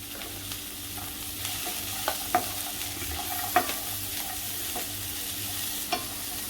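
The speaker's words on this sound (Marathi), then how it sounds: "2-2 मिनटं परतायचे आहेत आपल्याला सगळं." Gentle sizzling from a pan with intermittent sharp clicks of a utensil stirring vegetables, including carrots.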